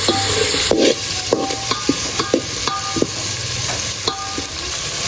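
Tomato gravy stirred into a frying pan of cooked onion, tomato and chilli oil, loud sizzling under repeated scraping knocks of a spoon against the pan, close and without talk.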